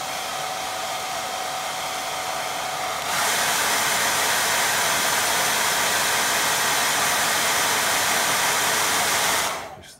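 A hair dryer hisses close by over a watercolour painting, first on a softer setting and then jumping to a louder, steadier roar before it cuts off abruptly.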